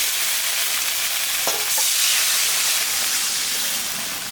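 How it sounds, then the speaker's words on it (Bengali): Water poured into a pan of fried spice masala for a fish curry, giving a steady loud hiss and bubbling sizzle throughout, with a brief clatter midway and no voices. "মশলাটা কষানো হয়ে গেছে, এখন আমি জল দিয়ে দিই।"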